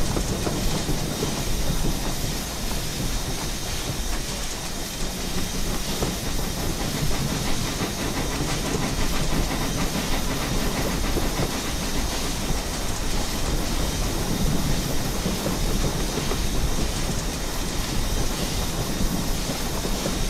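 A steam locomotive runs on rails with a continuous loud hiss of steam over a rumbling roll and rhythmic clickety-clack from the track, heard close and steady throughout.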